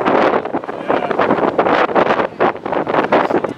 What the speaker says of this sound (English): the wind's kind of swirling right now